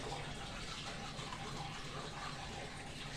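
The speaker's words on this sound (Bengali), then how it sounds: "দেখতে থাকো ছেলে কীভাবে মুখ ধুচ্ছে।" A boy washing his face under running water, a steady broadband rush of water from a tap filling the whole stretch at an even level, close by with no talking.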